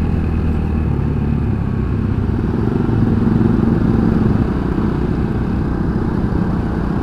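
A VR Cross X 150 trail motorcycle rides along with a steady, loud mid-pitched engine drone and a brief shift into third gear, close and continuous with no talk.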